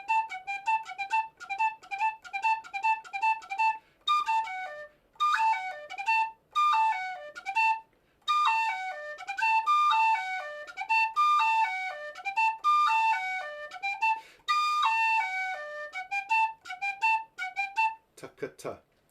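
A tin whistle plays the jig Father O'Flynn, with quick ornamented triplet figures and bouncing phrases in a clear, close, bright tone, broken by a few short pauses and ending with a brief rising squeak.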